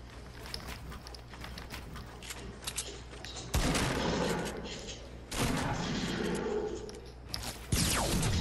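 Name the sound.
gunfire in a video game shooter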